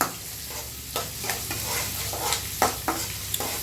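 Peanuts with urad dal, chana dal, cumin and mustard seeds frying in oil for a tempering, a steady close sizzle broken by several sharp stirring scrapes, with no talk.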